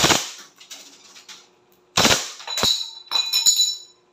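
A DB Glock 18C gel blaster fires in short, sharp bursts on full automatic. Its snappy cracks come in quick clusters with clicky mechanical rattles between them, close up and with no talking.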